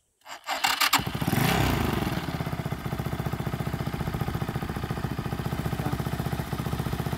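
A motorcycle engine cranks and catches, then settles into a steady, loud, close idle with an even rapid pulse after a short burst of revving at the start.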